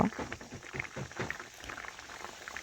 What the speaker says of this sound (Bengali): এই দেখুন বন্ধুরা জল ফুটে গেছে